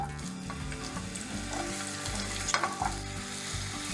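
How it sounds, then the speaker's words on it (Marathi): Steady, dense sizzling of sweet potato slices frying in hot ghee, continuous throughout with a few brief scraping stirs near the end. "साजूक तूप पॅनमध्ये किंवा कढईमध्ये गरम करून घ्यायचं आता यामध्ये कापून घेतलेले रताळ्याचे काप घालायचे"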